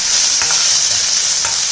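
Finely chopped capsicum and onion fry in a pan and are stirred, giving a loud continuous sizzle with a few scraping strokes of the spoon and no voices.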